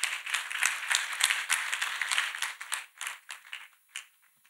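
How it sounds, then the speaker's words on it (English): A church congregation claps together in praise, a dense burst of hand claps that thins into scattered, tapering claps before fading out. "Let us clap for Jesus Christ."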